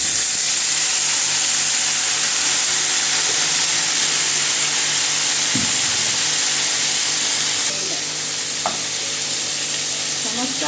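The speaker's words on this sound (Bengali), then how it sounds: "এই দেখো তেলটা গরম হয়ে গেছে, এবার দিয়ে দিচ্ছি আলুগুলো এর মধ্যে" Potatoes drop into hot oil for a home-style chicken curry. A loud, unbroken sizzle and hiss runs throughout, with a few faint utensil clinks near the end.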